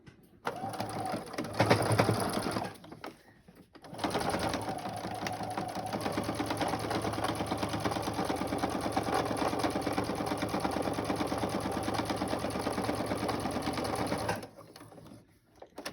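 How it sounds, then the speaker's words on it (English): A sewing machine stitches a fabric face mask in bursts: a short run, a brief pause, then a long steady whirring run of rapid needle strokes before it stops, close and fairly quiet. "And now let's start sewing."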